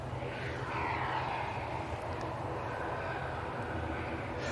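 A noisy Swiss airliner's engines at Manchester airport, a broad, steady jet roar that swells slightly and then holds, heard from a moderate distance with no voices.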